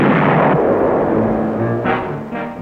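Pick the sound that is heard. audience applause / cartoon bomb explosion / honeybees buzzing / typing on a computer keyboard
cartoon bomb explosion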